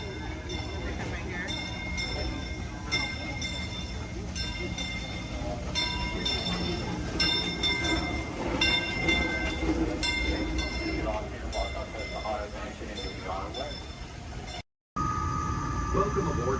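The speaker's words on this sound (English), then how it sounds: "Welcome aboard the Walt Disney World monorail to Epcot." Walt Disney World monorail to Epcot running with a steady rolling rumble and a layered electric whine, a voice announcing over it, before a brief cutout near the end.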